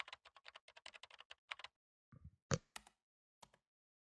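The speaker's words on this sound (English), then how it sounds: "I spoke loudly to keep up with the sound of fingers hitting keys" Keys struck hard and fast on a computer keyboard in the visual novel game Chaos Child, a rapid run of loud clacks, a pause, then a few heavier isolated strokes, close and alone with no voices.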